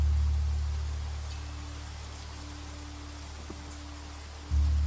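Steady rain hisses in the video game Niche, a soft constant wash with a low hum underneath and a faint tone that recurs, closing with a low thump.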